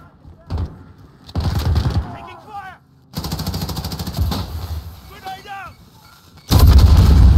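Heavy gunfire in a Call of Duty Kill Confirmed match, loud bursts of shots and booming blasts broken by short quiet gaps, with radio-style voice callouts between the bursts.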